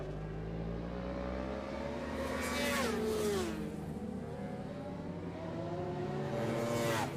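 Honda CBR 600RR superbikes race in a Masters Superbike Championship round, with a high-pitched, revving engine whine rising and falling as bikes pass at a moderate distance over a steady track rumble.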